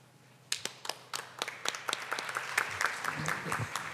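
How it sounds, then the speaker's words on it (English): Applause for panelists at a conference plenary session begins with a few scattered claps, then quickly builds into a fuller round of clapping from the audience, with some murmured voices underneath. "can we just give a round of applause to our distinguished panelists, please?"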